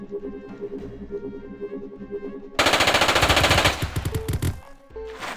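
Scorpion gunfire in the Jagged Alliance 2 v1.13 video game: after a stretch of background music, a loud, close burst of rapid automatic shots rattles out, then tapers into a few scattered tones.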